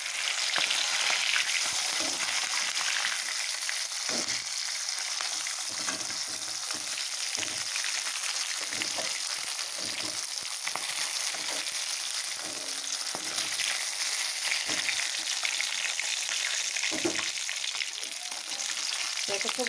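Fish frying in hot oil, a loud, dense sizzling hiss that holds steady throughout with small crackling bursts, close up.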